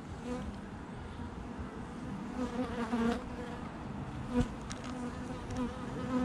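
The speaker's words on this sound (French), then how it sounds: "Ces belles petites abeilles grassouillettes et dodues d'hiver." Plump winter honey bees buzz at a hive in a soft, continuous drone with a few louder close passes, heard with no talking.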